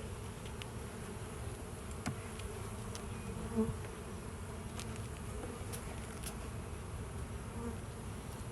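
Honey bees buzz steadily around an open hive during an inspection, a constant close drone with a few louder passes and no talking.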